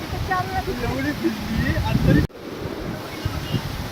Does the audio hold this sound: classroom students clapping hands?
no